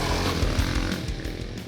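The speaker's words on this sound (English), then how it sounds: "Once warmed up, it runs pretty well, emitting a pleasant 4-stroke sound that's not offensively loud." A 2025 Can-Am Renegade 110 X XC youth ATV's four-stroke engine runs with a steady, moderately loud buzzing drone that swells briefly, no talking.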